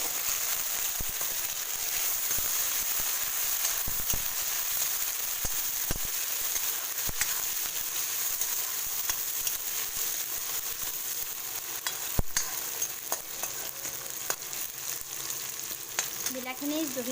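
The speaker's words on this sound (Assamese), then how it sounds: "বিলাহীখিনি জহি যোৱালৈকে অলপ ভাজি ল'ম" Chopped tomatoes fry in a pan over steady heat, a continuous close sizzling hiss with scattered pops and an occasional clack of a spoon against the pan.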